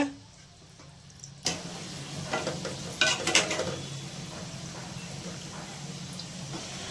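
Vada pav potato fritters deep frying in hot oil, a steady sizzle and bubbling that rises sharply after a quiet start, with a few stirring or utensil clinks along the way.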